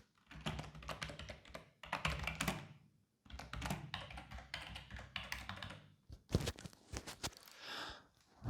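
Typing on a computer keyboard, close and fairly loud, in several bursts of rapid key taps with short pauses between them and a few heavier thunks near the end, with no talking.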